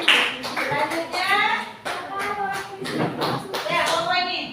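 Clapping in an Indonesian school classroom, hand claps spread through the clip and mixed with children's voices and a teacher talking nearby.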